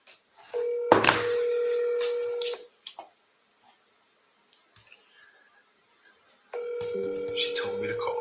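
Phone call being placed on a mobile during a real estate seller call session: a steady electronic tone with stacked harmonics sounds, breaks into short blips, then resumes loudly near the end, with brief talk mixed in.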